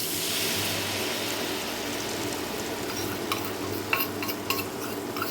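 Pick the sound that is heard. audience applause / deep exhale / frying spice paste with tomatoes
frying spice paste with tomatoes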